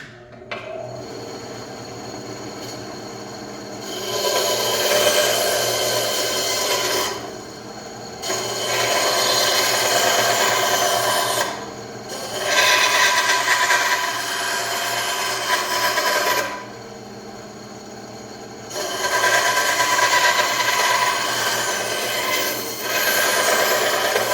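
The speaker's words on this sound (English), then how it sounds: "I'm going to cut off the corners, trying to give it a nice little rough round." A power tool cuts the corners off a wooden ring blank, grinding in four loud, close bursts of several seconds each separated by short pauses, with no voices.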